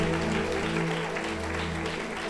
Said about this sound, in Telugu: సరే గట్టిగా చప్పట్లు కొడదామా, గట్టిగా గట్టిగా గట్టిగా గట్టిగా